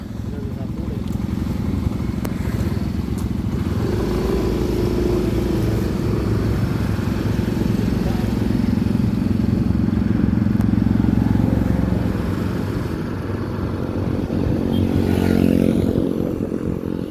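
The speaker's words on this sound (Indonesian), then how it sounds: "ada iringan kendaraan" A convoy of motorcycles and cars rolls along a newly opened toll road, a continuous loud engine drone and road rumble with rising and falling passes, while people talk over it.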